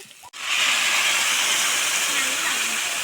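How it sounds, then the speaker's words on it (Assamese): Water goes into a hot pan of fried potatoes and jackfruit, setting off a loud, close sizzling hiss that starts abruptly and keeps going. "এয়া ফাইনেলি পানী এড কৰা হৈ গ'ল।"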